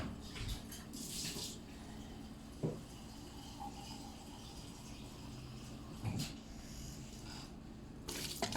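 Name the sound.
water being added to cooking tuwo rice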